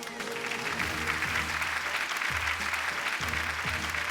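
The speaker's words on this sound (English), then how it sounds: "A big round of applause." Awards ceremony audience at a startup awards event applauding, steady crowd clapping throughout, heard beneath a musical backing with low rhythmic notes.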